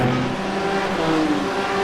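GT3 race cars roar down the front stretch at Red Bull Ring in a sim racing replay, a loud, steady engine drone with sustained high revs and no break.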